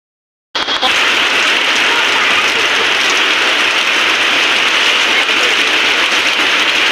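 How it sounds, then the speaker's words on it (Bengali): Heavy rain pours steadily and loudly at a market, a dense continuous roar that starts abruptly after a half-second of silence and holds without pause to the end. "দেখো গাইস কি জোরে বৃষ্টি হচ্ছে"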